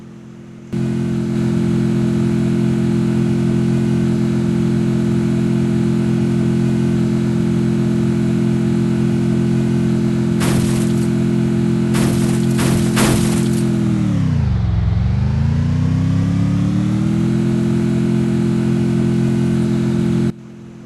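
A car engine in the mobile battle-royale game Free Fire hums steadily and loudly near at hand, then dips in pitch for a few seconds as if braking or shifting and climbs back up. Occasional sharp bangs cut in, with no talking.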